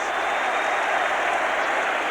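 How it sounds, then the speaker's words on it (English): A football stadium crowd at Everton against Newcastle United cheers and applauds right round the ground, a dense, steady roar of clapping and voices that holds at an even level throughout. "The cheering, the applause, right round the ground, absolutely thrilled to bits."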